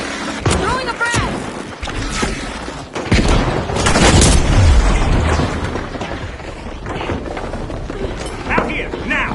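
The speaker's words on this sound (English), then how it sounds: "Throwing a frag!" A frag grenade blows up in a video game match, a loud close boom with rumbling low end amid gunfire and action noise, while a player talks over it.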